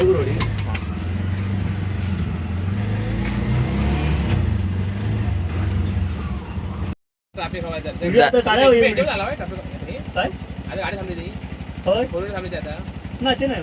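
An auto rickshaw's engine drones steadily and close for about seven seconds, a low continuous rumble, then after a brief dropout the ride noise continues beneath people talking.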